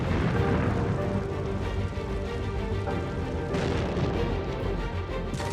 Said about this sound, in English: the bomb Ferrier is spraying explodes